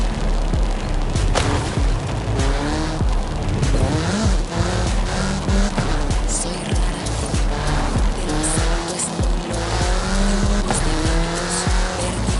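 A supercar in Forza Horizon 5 races at speed through the countryside, its engine roaring loudly with repeated gear shifts and squealing, skidding tires throughout, with no voices over the racing noise.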